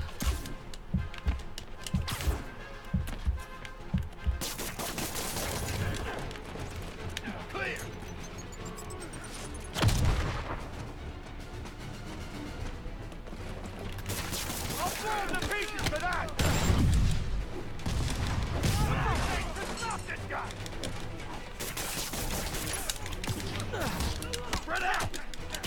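Gunfire and a grenade blast in the Marvel's Spider-Man video game, with bursts of shots, a heavy explosion and chaotic combat noise running under excited talk.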